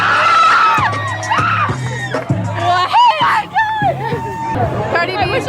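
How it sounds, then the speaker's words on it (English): A woman screams excitedly at LA Pride on seeing Cardi B, with repeated high shrieks and whoops over a loud surrounding crowd, chatter and voices close by. "You'll hear her scream."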